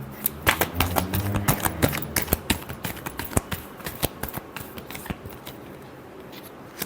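Tarot cards are shuffled by hand in quick, crisp riffles and flicks, close and clear, a steady run of papery snaps that slows toward the end with no talking.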